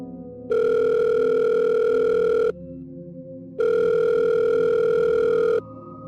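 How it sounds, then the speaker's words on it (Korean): Telephone ringback tone heard while a call is placed to a dictated number: two long, loud, steady tone bursts separated by a pause, alone with faint background hum. "직원 형이 불러주는 번호를 받아 적은 후 곧바로 전화를 걸었습니다"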